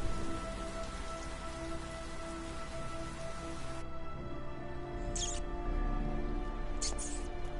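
Steady rain in the video game Heavy Rain, a constant dense hiss of falling water with a few brief higher clicks near the end, heard on its own without talk.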